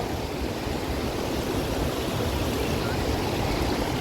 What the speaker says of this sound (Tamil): தாமரைப்பாக்கத்தில் இருக்கக்கூடிய ஏரியிலேருந்து வரக்கூடிய தண்ணி தான்.